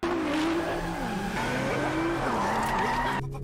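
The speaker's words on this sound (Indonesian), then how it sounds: "pria misterius itu mengaktifkan akselerasi truk derek hingga Jang So tak bisa mengendalikannya" A tow truck speeds up in a crime drama scene: a loud, continuous engine roar with rising and falling whine and squealing tires, close throughout and ending in a brief break.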